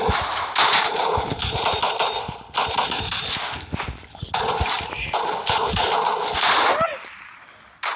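Rapid automatic gunfire from the mobile game PUBG Mobile crackles in loud, dense bursts separated by short pauses, followed by a brief tone near the end.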